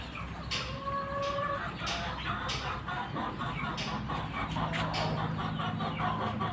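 A hen and her chicks on a poultry farm cluck steadily, with bursts of high peeping from the chicks over a constant, fairly close flock noise and no talking.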